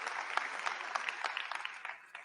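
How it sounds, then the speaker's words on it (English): Applause rises from the audience at the Dreamforce 2023 keynote: a quiet, distant patter of many hands clapping together that fades out toward the end. "It's okay to clap."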